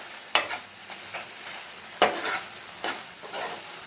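Onion and tomato masala for prawn roast being mashed in a pan with a spatula, a series of sharp scraping strokes at an irregular rhythm over a quiet background sizzle, close up.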